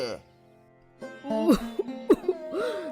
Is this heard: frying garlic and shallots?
no